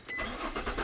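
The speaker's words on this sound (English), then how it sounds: "So I'm going to turn on the car here." A 2005 Nissan Xterra engine cranks and catches in a short, fairly quiet burst of broadband noise with no talking over it.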